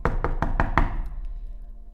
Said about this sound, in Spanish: Llegó a la casa de sus tíos y tocó rápidamente a la puerta.